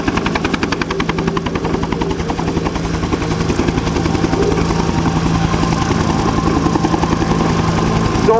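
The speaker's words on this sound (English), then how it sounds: "this Bell UH-1 Iroquois, this is the one that really shined in Vietnam and has the most unique flap, flap, flap sound" A Bell UH-1 Iroquois helicopter at an Air National Guard open house airshow gives a loud, close, continuous rhythmic rotor flap-flap-flap over a steady turbine drone, with no voices.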